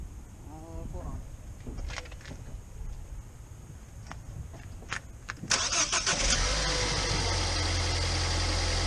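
Ford Fiesta ST fitted with a Velossatech Big Mouth intake, its engine starting up loud and close after quiet handling noises, then settling into a steady idle with a broadband intake rush.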